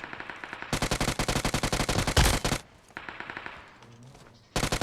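Rapid automatic gunfire in the mobile battle royale game PUBG Mobile, a loud burst of evenly spaced shots followed by a quieter gap, then another burst starting at the end; no talking over it.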